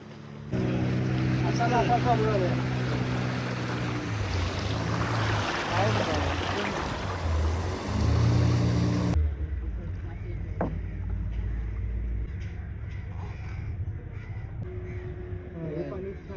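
A boat ride on the sea off Nivati near Malvan: steady engine and water rush dominate, then the sound shifts to a quieter rumble with lapping water and a crow cawing nearby; brief voices are heard.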